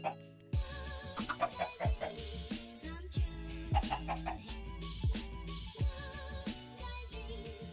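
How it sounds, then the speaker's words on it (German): Minecraft chickens clucking in a rapid series of short, bright, repeated clucks at close range, forming an irregular rhythm throughout. "vielleicht finden wir noch ein viertes Hühnchen, obwohl da hat ja gerade ein Ei gelegt."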